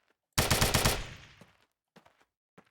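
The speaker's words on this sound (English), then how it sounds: "Different sound effect for shooting a tree versus shooting the wall." Rapid automatic gunfire from a DeathMatch video game, shooting at a tree: a loud, dense burst of about half a second of shots, decaying into a rattling tail, followed by a few faint scattered clicks.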